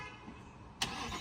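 A Ford Mustang GT Premium Performance fired up by push button: quiet cabin hum, then a sudden starter catch and engine bark that settles into a loud, steady rumble.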